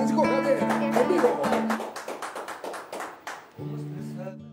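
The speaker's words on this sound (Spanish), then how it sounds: "¡Fuerte el aplauso!" Audience applause rises at a Festival Loti concert for a singer-songwriter, a spread of scattered claps over lingering musical tones that grows, then fades as a voice and music return.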